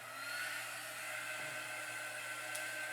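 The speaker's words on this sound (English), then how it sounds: "I'm gonna take my little dryer and I'm gonna dry the ink" A small handheld hair dryer blows a continuous, even whir at close range to dry fabric ink on a t-shirt, steady throughout with no talking.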